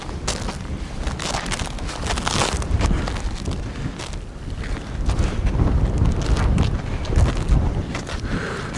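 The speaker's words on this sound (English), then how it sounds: "With no crampons after a while, so super windy." Strong, gusty wind roars and buffets the microphone continuously on a high ridge of Mount Toubkal, Morocco, with low rumbling surges that swell and fade, no voices present.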